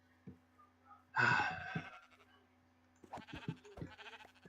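Sheep in the video game Minecraft bleat in short quavering calls, a burst early and several more near the end, soft and alone against a faint background hum.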